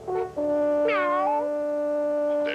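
An animated cartoon cat gives a clear, drawn-out meow, with a rising and falling whine over steady tones, loud and close with no talk.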